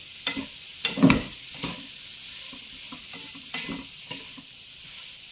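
Mango pickle cooking in a pan for an Indian recipe, with sugar added, gives a low sizzle under repeated spoon stirring and scraping, with a few sharper clinks near the start.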